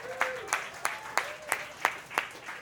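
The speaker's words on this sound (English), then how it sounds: "Give him a round of applause for Mr." A small audience claps for a guest at a crypto and trading talk, sparse and evenly spaced claps rather than a full ovation, fairly faint and close together over a few seconds.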